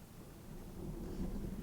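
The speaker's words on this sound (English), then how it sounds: "the thunder is rolling" Thunder rolls in the distance, a soft continuous low rumble that swells slightly toward the end, heard alone and faint.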